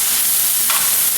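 Pork chops searing in an oiled pan, a steady loud broadband sizzle with a brief swelling hiss partway through, close up and with no talking.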